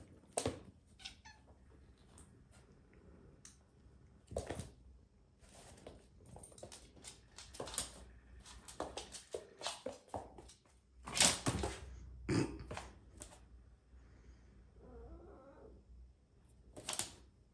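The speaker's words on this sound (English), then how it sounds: "He wants so badly to play with the cat." A house cat makes intermittent meows and soft purring sounds up close, mixed with brief rustles and taps in a quiet indoor setting.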